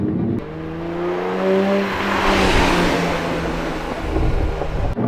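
A 1991 Ferrari Testarossa drives away, its engine note rising and sweeping steadily as the car accelerates, loud and close at first under broadband road and wind noise, with no talk.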